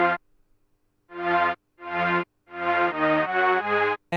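A band-passed Serum Hypersaw preset synth layer for a 90s drum and bass rave stab, played alone as four sustained chords separated by short gaps, the last two running together.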